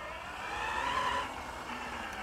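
V3 Paradox Kinetics electric vehicle driving a quick lap, giving a steady whirring hum with a slight rise in pitch, close and moderately loud, alone without talk.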